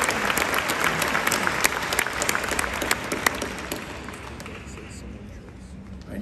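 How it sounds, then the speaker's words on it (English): A graduation crowd at a Penn State University ceremony in State College gives sustained applause, with dense clapping and sharp individual claps that ease off slightly after a few seconds, while voices murmur underneath. "give a round of applause to the graduates who are not here"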